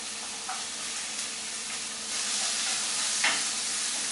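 Onion and minced garlic sizzle steadily in hot oil with a constant broadband hiss, while a spoon stirs through them and scrapes now and then, the frying loudening slightly halfway through.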